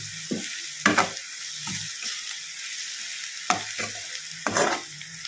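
Egg and carrot curry fries in a pan, with a steady broadband sizzle and a few brief scraping stirs of a spatula spaced across the stretch; no voices.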